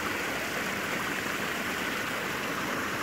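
River water pours through a sluice gate, a dense, continuous broadband rush that stays steady and fairly loud throughout with no other sounds.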